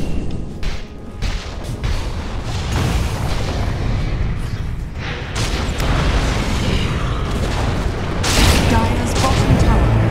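In the Dota 2 video game, a tower is battered and destroyed with heavy booms and crashing bursts, loud rumbling impacts layered over chaotic battle noise, with talking mixed in.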